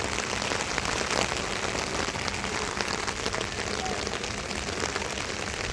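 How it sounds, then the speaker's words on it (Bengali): Heavy rain falls over flooded low-lying land in Cumilla and Feni, Bangladesh, a dense, even roar of drops drumming on surfaces that stays steady and close throughout. "অনেক বৃষ্টি"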